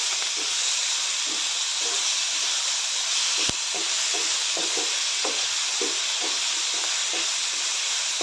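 Onion and tomato sautéing with salt in a pan, a steady loud hiss and sizzle running throughout with faint scattered scrapes of stirring and one sharp knock midway.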